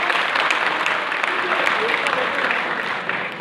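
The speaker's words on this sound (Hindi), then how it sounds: "इन चारों के लिए आप जोरदार तालियां बजाइए" Loud, dense applause from a college audience in Ajmer honoring four student office-bearers, sustained steadily throughout with a speaking voice faintly underneath.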